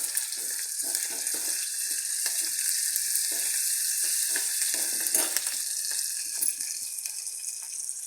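Steady close sizzling of food frying in oil in a pan before ginger garlic paste goes in, a continuous crackling hiss with faint stirring scrapes throughout and no voices.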